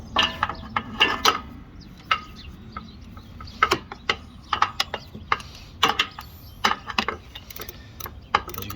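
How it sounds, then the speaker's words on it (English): A socket wrench ratchets on the spark plug of a Ferris 52-inch walk-behind mower with a 26 HP Briggs and Stratton engine, giving short bursts of sharp clicking at close range separated by brief pauses, no talking. "You might need a super small socket wrench."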